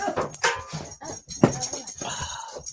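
A close dog barks and yips in quick, uneven bursts, with a cluttered, noisy background.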